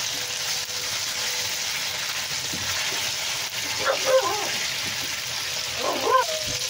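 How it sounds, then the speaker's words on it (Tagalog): Pork for white adobo in vinegar fries in its own rendered fat, a steady bright crackling sizzle close by, with a few louder bursts of spattering, and a dog barks faintly in the background. "itrito natin sa sarili niya mantika yan. Sa lumabas niya, tapos mamula-mula siya"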